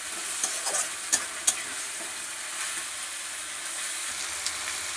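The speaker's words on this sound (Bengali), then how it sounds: "দিয়ে ভালো করে মশলাটা কষতে হবে" Salt and turmeric frying in fat rendered from goat meat for a potato curry, giving a dense, even sizzle with a few sharp crackles and pops, steady and close, with no talking.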